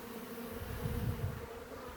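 Bees buzz steadily around a bee trap-out on a hive, a close, continuous drone that swells briefly in the middle.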